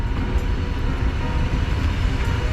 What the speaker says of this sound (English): the train left the station